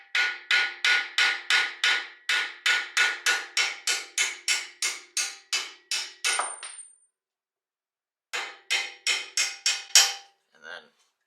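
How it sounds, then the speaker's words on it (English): A hammer strikes metal bolts on a 2015+ Subaru WRX suspension in a fast, even series of ringing blows, pauses for a couple of seconds, then resumes with several more hits. "you'll definitely want a hammer just to hit the bolts out"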